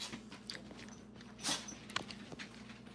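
A pet dog eats cooled-down eggs tossed to it in a home kitchen, with soft close-up chewing and a few crisp bites in an irregular rhythm and no talking.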